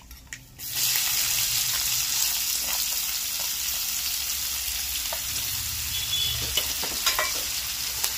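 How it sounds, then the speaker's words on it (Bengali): Chopped onion, from one large onion, drops into hot oil over fried tempering spices while cooking pui shak with prawns. A loud, steady sizzle bursts in after a brief quiet start and continues close by, with occasional stirring clicks. "এবার দিয়ে দিচ্ছি বড় একটা সাইজের পেঁয়াজ কুচি"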